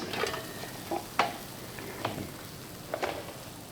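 Potatoes being stirred and shifted while they crisp in a Ninja Crispi, a soft sizzling bed broken by a few sharp scraping clicks and rattles at irregular intervals, close up and without talk.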